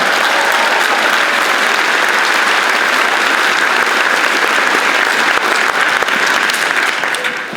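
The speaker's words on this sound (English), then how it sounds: "please, big round of applause" Applause for the SMS PTA at an 8th grade celebration, a loud sustained wash of clapping from a large audience that holds steady and tapers slightly at the end.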